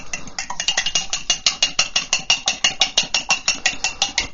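Fork rapidly whisking eggs in a bowl for chicken pad thai, a steady run of quick, evenly spaced clinking beats of metal against the bowl, close and fairly loud, with no talking.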